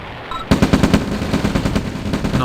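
Rapid machine-gun fire from the real-time strategy game OpenRA Red Alert, a dense rattling burst of evenly spaced shots that starts abruptly and keeps going, loud and close.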